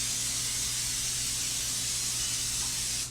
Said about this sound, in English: spray the bottom and the sides of our baking dish